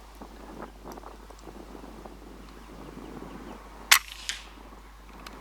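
Single sharp air rifle shot fired at a rabbit about 60 yards away outdoors, a quick crack followed by a faint thud, set against soft wind noise and quiet rural background.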